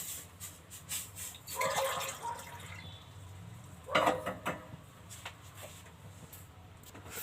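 Hot drinking water is poured in a home kitchen on a winter morning, a soft splashing trickle with a couple of stronger gushes amid light background clatter.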